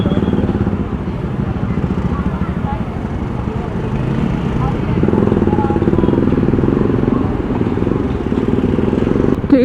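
A Bajaj Pulsar NS 200 fitted with an Akrapovič exhaust rides along a road, its engine a steady loud drone that swells slightly midway, with some traffic around.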